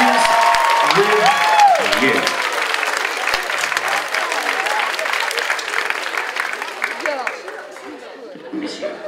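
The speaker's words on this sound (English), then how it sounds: "Give your volunteers a round of applause." An audience applauds the volunteers at a hypnotist's stage show in a community college venue. Loud, dense clapping with a voice over it at first, then the applause gradually thins and fades toward the end.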